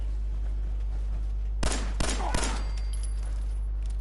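Three quick gunshots ring out in Fallout 4, one loud blast followed closely by two more in rapid succession, then fading into the game's low ambient hum.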